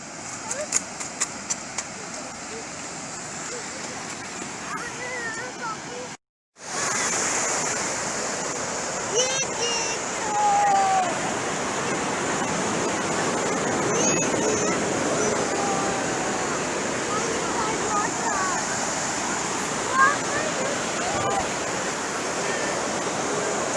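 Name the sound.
ocean waves washing up on beach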